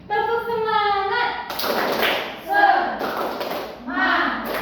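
A classroom of pupils performs a rhythmic clapping chant, bursts of hand claps and thumps alternating with a sung teacher's call and the children's shouted reply, close and lively.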